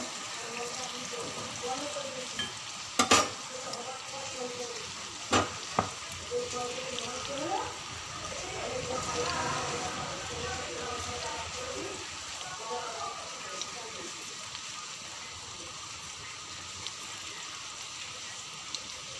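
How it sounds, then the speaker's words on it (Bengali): Soybean pakoras deep frying in hot oil make a steady hissing crackle that holds through the clip, with a few sharp clatters early on and a voice speaking faintly underneath. "পকোড়াগুলোকে ভেজে নিই।"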